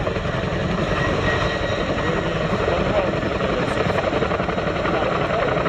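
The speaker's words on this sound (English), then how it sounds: "JT will be focused on returning the aircraft to the hover." A helicopter at an airshow holds a loud, steady hover, its rotor thudding and engine whining continuously and close with no letup.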